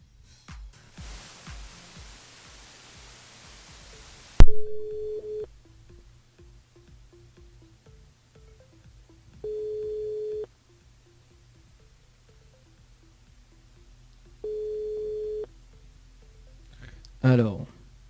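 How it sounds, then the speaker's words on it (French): A phone line rings out while a radio show host calls a listener on the station switchboard, giving three evenly spaced ringback tones after a loud click, with a brief voice answering at the end. "On appelle Audrey sur le standard du côté des avirons."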